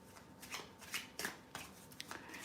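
Tarot cards are shuffled by hand, close and quiet, with a series of soft riffling bursts and card slaps in an uneven rhythm and no voices.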